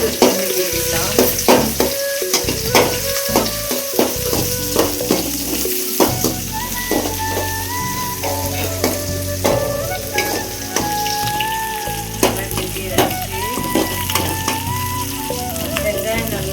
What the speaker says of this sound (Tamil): வெங்காயம் நல்லா சொல்லுவாங்களே பொன்னிற மாதிரி அந்த அளவுக்கு நல்லா வதக்கிக்கலாம்